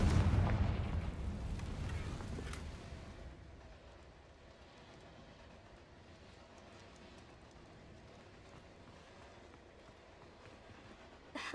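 A Confringo fire spell in Hogwarts Legacy bursts with a loud, close booming blast at the start and then fades into a long, low rumbling tail, with no speech.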